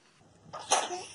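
One sharp sneeze, a brief breathy intake followed by a loud burst, close and alone.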